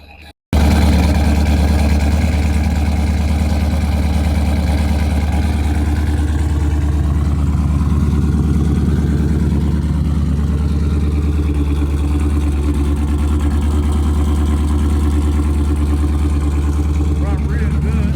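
A twin-turbo Oldsmobile Cutlass 442 engine runs loud and steady after a brief start, holding a deep continuous idle rumble with slight variation throughout.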